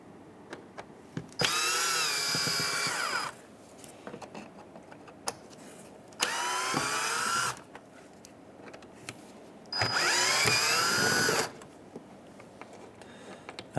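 A power drill backs Phillips screws out of the grille on a 2015-2019 Hyundai Sonata, running in three rising, whining bursts of a couple of seconds each, separated by quieter gaps with small clicks and handling taps.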